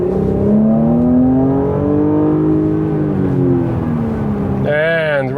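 A 2022 Porsche Cayenne E-Hybrid Coupe engine in Sport Plus mode hums steadily and loud from inside the cabin, its tone rising and falling slightly, with a voice speaking briefly near the end.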